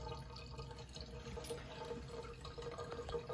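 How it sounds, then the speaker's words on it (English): A Chanson Royal water ionizer runs a cleaning rinse, with water flowing and trickling steadily at low volume, a soft continuous pour with faint dripping and no talking. "it will run for about a liter to clean the machine"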